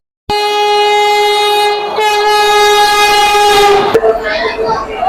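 A train running from Panskura to Digha sounds a loud, sustained horn blast for several seconds, then the rumble and clatter of the moving cars carry on close by.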